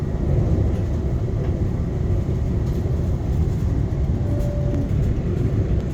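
Constant low rumble and rushing roar of a fast-moving train past Ciampino toward Rome Termini, heard from inside, steady throughout with no voices.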